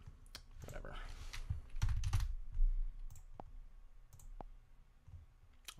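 Keys clatter on a computer keyboard while a phone number is entered into a Flutter call-manager app. Quick bursts of clicks come first, then sparse single taps, close-miked and fairly soft.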